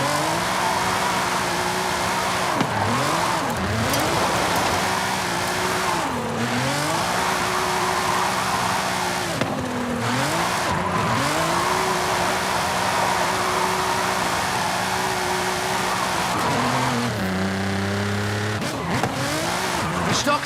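A Nissan GT-R with a VR38 engine drifts in Forza Horizon 5, its loud engine revving up and down in repeated swells while the tires squeal steadily through long slides.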